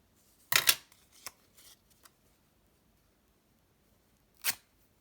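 Scissors snipping through cotton fabric for a junk journal pocket, a few quick crisp cuts in a short burst, then isolated snips with silence between, close and clear.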